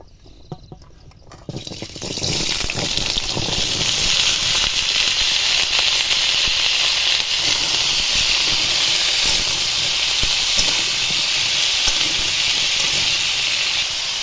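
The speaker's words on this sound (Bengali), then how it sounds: "এবার আমি কড়াইয়ে তেল দিয়ে দিয়েছি, আলুগুলো দিয়ে দেব, দিয়ে ভেজে নেব।" Cut potatoes dropped into hot oil in a wok, bursting into a loud, dense, continuous hiss that holds steady after a quiet start, close up with no voices.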